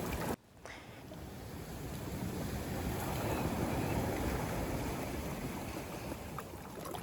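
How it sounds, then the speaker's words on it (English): Ocean waves play back from a video as a soft, steady wash of surf that swells after a brief pause at the start and holds at a constant level. "The waves are gushing down"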